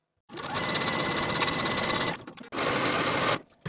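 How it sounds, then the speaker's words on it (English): A sewing machine runs steadily, stitching a skirt seam with a 3/8 inch seam allowance, pausing briefly before a second burst of stitching and then stopping, close and loud with no talking. "Sew this seam with a 3/8 inch seam allowance and then serge your seam to finish."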